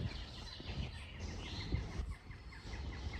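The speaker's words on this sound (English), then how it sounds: "Birds all singing in the woods." Birds sing in woodland beside a campsite on the Isle of Man, a steady wash of chirps and calls at moderate distance with faint insect-like buzzing beneath.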